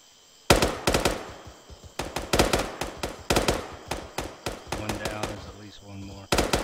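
Rapid bursts of automatic gunfire in a special-operations shooter game, loud and close, coming in repeated clusters with brief pauses between volleys.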